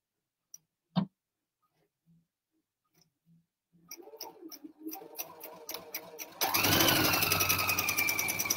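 A sewing machine stitches rows of elastic, with a few isolated clicks first, then a rhythmic ticking run that builds into a loud, steady mechanical whir.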